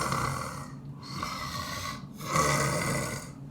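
A storyteller's voice imitates a grandmother snoring in bed, like an old clogged engine: slow, rasping snores with breathy pauses between them, close and fairly loud.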